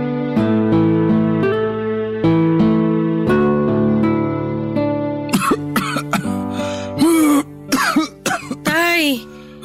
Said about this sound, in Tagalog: Kanina pa talaga ako inaatake ng ubo.